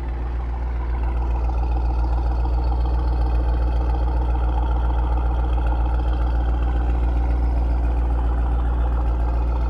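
Tuned 900 HP 2021 Mercedes-Benz AMG GT63 engine idling steadily with a deep, continuous low rumble, heard up close with no talking.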